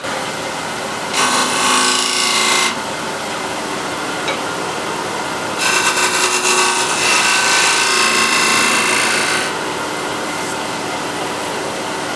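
A hand scraper drawn across a wood surface makes two loud, rasping passes, one short and one longer, over steady background noise in a woodworking shop.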